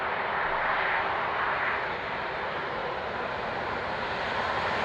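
An airplane's engines roar steadily on a runway before takeoff, played back from a Blu-ray disc, a continuous loud broadband drone with no voices.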